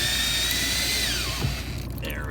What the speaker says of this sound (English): I'll take the drill off